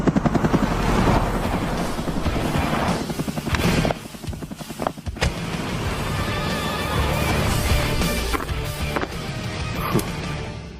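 A helicopter's rotor thrums steadily and loudly throughout, mixed with bursts of dramatic background music and sharp hits.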